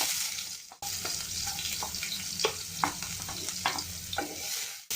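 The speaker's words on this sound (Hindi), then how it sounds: "साथ ही में मैं इसमें हरी मिर्च और ये कटा हुआ प्याज भी ऐड कर दे रही हूँ।" Cumin, green chilli and chopped onion crackle in hot oil for Maggi pulao, a dense near sizzle that cuts out briefly at the start, then continues with light scraping stirs.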